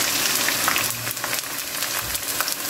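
Edible gum (gond) frying in hot ghee over a low flame, a dense, fairly loud bubbling sizzle that runs steadily through the whole stretch, close by and without voices.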